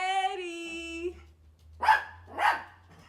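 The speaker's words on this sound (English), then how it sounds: "my dog apparently discovered that she has a voice and will not shut the fuck up." A pet female dog lets out two sharp, fairly loud barks about half a second apart, following a brief high tonal sound; a low hum runs underneath.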